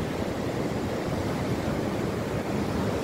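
Waves rolling onto Menganti beach, a steady broadband wash of surf with some wind, even and continuous without voices.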